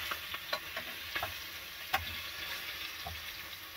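Oxtail sears in a pan while cooking inside a camper, a continuous close sizzle broken by crackling pops and occasional clicks from stirring, with no voices.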